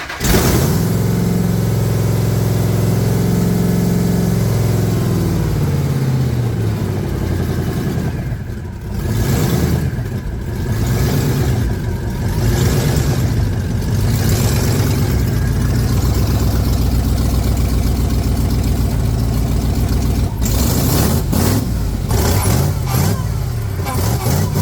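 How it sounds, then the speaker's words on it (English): A Hellcat-swapped Jeep Wrangler with new exhaust idles loudly, then revs repeatedly in rising and falling bursts, with a high supercharger whine running above the deep exhaust note close by. "The new exhaust is still a little loud, but it's quieter than it was, and you can hear the supercharger whine"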